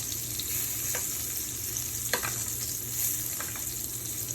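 Wagyu beef sizzling in butter at an outdoor cooking spot in Guyana, a steady loud crackle with occasional sharper pops and spatters, close up and without talking.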